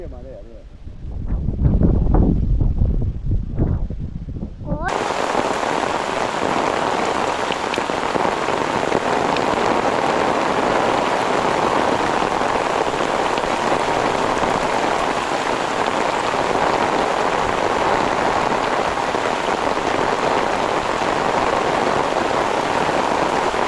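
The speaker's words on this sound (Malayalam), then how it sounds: "ഭയങ്കര മഴയാണല്ലോ" Brief talking on a stormy coast gives way to a sudden, dense roar of heavy rain, pouring steadily and loudly without a break.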